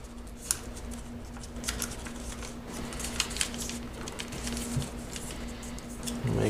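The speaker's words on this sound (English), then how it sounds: "Now unfold and open it. Fold it in, and on top it's a reverse fold." Paper being creased and folded into an origami parrot, with soft crinkles and scattered crisp taps near the microphone over a steady low hum.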